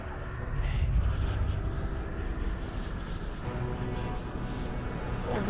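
Fire rescue planes flying low in the video game GTA 5, a steady loud broadband engine roar filling the whole clip with no talk.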